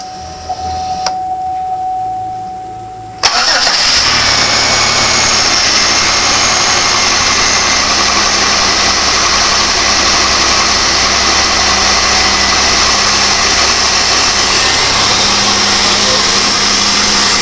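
A Monte car with a loud three-piece cold air intake cold-starts: quiet at first, then the engine catches abruptly and settles into a loud, steady, roaring idle recorded close to the motor, with no talking.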